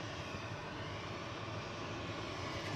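A Boeing 777 airliner's engines roar at Manchester Airport, a steady, dense broadband rumble that holds at constant loudness throughout with no voices.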